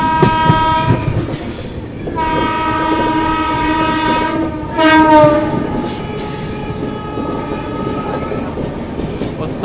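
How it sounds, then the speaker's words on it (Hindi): A railway horn sounds loudly from a parcel van crossing alongside a moving express train, one long steady blast, then a short break and a second extended blast, with a rattling, clattering run beneath. "साइड से पार्सल वैन जो है क्रॉस हो रही है, उसी की हॉकिंग की आवाज़ थी है अभी"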